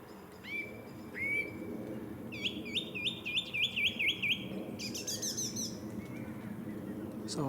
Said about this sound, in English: The old song thrush.